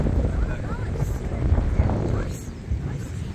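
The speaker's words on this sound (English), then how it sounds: "Some wind." Wind blowing across the high St Gotthard Pass in the Alps, a steady low rumble of gusts buffeting the microphone outdoors, constant and fairly loud throughout with no clear pauses.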